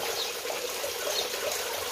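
Water flows steadily from a small waterfall inside a bird aviary. The splashing and trickling is continuous and even and fills the space close by, with no voices.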